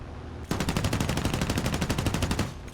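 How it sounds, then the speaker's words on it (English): Machine guns of a BF-109F4 fighter plane in a video game open up in one sustained, rapid burst of evenly spaced loud shots lasting over two seconds. "I fire more shots."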